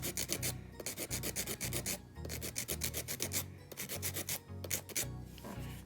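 An electric nail file whirs in steady bursts as it shapes nails into a tapered square or coffin shape, its motor tone cutting in and out with each short pass over the nail.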